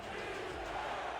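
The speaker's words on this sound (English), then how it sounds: "Crowd on their feet here in Raleigh. You can hear them chanting defense" A stadium crowd in Raleigh roars and chants defense during an American football game between St. Louis and Carolina. The chant is a dense, sustained wall of voices at a distance, with no single speaker.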